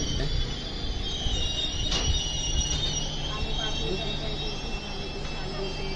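The Mandovi Express rumbles steadily along the Konkan Railway rails with a continuous metallic roar and faint high squeal, close by, with voices murmuring underneath.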